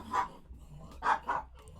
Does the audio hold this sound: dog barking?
yes